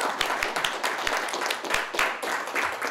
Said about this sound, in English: No, clap for them like you mean it.